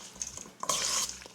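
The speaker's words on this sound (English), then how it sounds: "Mix this really well" Sliced steak is tossed with dressing in a bowl, giving a short, close, wet squelching and scraping stir with a light utensil clink.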